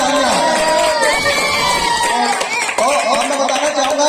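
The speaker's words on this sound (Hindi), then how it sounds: "तो जोरदार तालियां।" Children and an audience cheer, shout and clap at a school prize-giving for Children's Day, a loud, continuous crowd roar with excited young voices throughout.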